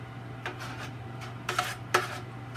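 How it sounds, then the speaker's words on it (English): A utensil scrapes and taps against a lasagna pan while spaghetti sauce is spread across the bottom, a few short close scrapes and clinks over a steady low hum, no voices. "I'm gonna dump about a 1/4 cup of it in the bottom of the pan and spread it around"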